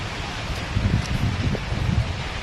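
Wind gusts across a house rooftop with a steady low rumble and rustling buffeting against the microphone, continuous throughout with no voices.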